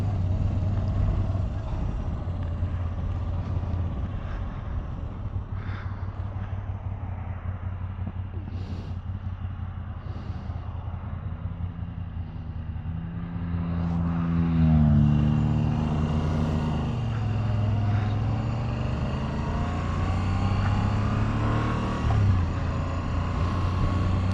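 A Lotus sports car passes close to a moving motorcycle, its engine note rising and falling over the steady rumble of the bike and wind.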